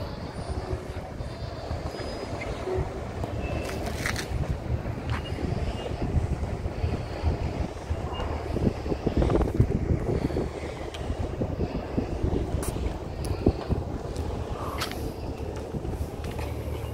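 A water bus cruises through Copenhagen harbour, giving a steady low engine rumble and wind noise with scattered faint clicks and knocks, close and continuous throughout.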